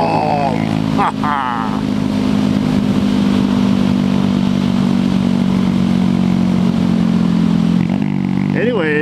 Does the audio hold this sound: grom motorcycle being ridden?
yes